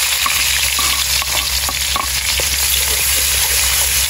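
Onion frying in oil in a pan beside a stream, a loud continuous sizzle broken by repeated clicks and scrapes of stirring.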